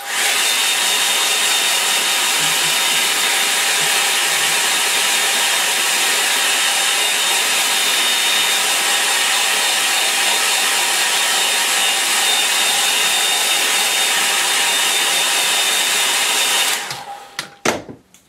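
A hair dryer blows on a landscape painting, a loud, steady whirring roar that runs unbroken for about seventeen seconds before it switches off and winds down, followed by a few faint handling knocks.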